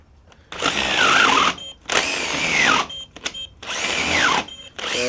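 A Festool TI15 impact drill driver bores with a 1 inch bit in three loud, close bursts, its motor pitch sagging and shifting under load, with short quiet pauses between runs.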